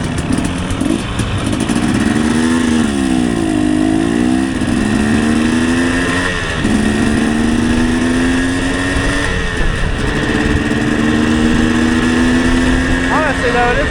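Two-stroke motorcycle ridden on a street, its buzzing engine rising and falling through several rev swells and gear changes, loud and close, with wind noise throughout.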